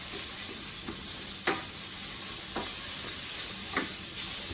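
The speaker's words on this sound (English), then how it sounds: "So I'm going to throw all of that in and let it sizzle away" Chopped garlic sizzles in a small amount of oil in a pan, a steady hiss with occasional crackling pops as it is stirred, close and continuous, no talk.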